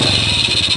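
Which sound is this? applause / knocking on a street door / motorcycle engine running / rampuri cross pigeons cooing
motorcycle engine running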